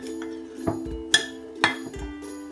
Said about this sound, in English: We mix all the dry ingredients